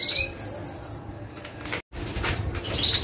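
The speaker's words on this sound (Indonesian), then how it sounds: "sudah dapat burungnya. Ini adalah burung black-hooded siskin saya ya teman-teman." A black-hooded siskin flaps its wings in quick fluttering bursts as it is caught in a cage, close and brisk, with a short sharp chirp at the start and end.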